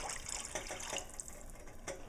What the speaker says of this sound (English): we're going to add 2 cups of dried lentils to 8 to 10 cups of water,